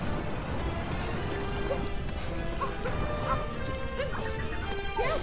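Small dog barking and yipping in Super Mario Odyssey, several short scattered yelps over a busy bed of game music and crashing effects, with no talking.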